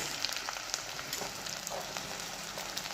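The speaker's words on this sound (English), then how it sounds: "Saute whole spices for a while. Then add onions." Onions sauté with whole cloves, cardamom and cinnamon in oil for oats veg pulao, a soft, steady sizzle with faint crackles throughout.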